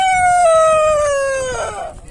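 A chicken at a livestock and animal fair in Afogados da Ingazeira, Brazil, gives a single loud, drawn-out crowing call that slides slowly downward over about two seconds, close by, with faint market murmur underneath.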